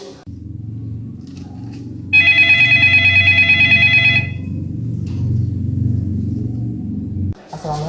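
A telephone rings for an incoming call, a loud electronic warbling ring lasting about two seconds over a low background rumble in a dramatized scene about the Indonesian independence proclamation.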